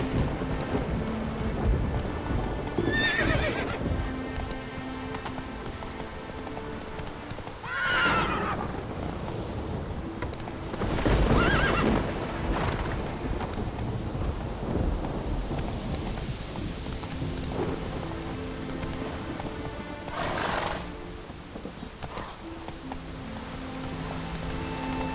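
Roach, a horse in The Witcher 3 video game, gallops with rapid rhythmic hoofbeats and lets out several loud whinnies, over a constant wash of rain and rolling thunder.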